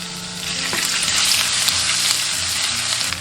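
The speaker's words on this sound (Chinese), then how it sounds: "锅中倒食用油，下入姜丝爆香" Shredded ginger fries in hot cooking oil in a wok, a loud, continuous hiss and crackle that holds close and steady throughout, with a faint clink of a utensil.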